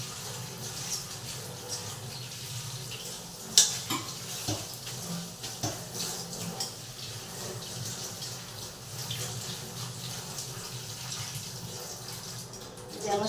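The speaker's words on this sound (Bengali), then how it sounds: "এইভাবে শাকগুলো ধুয়ে নেব যাতে কোনো মাটি না থাকে।" Tap water runs steadily over a bunch of leafy greens being rinsed clean of soil in a home kitchen, a continuous close splashing wash with a few louder knocks of handling.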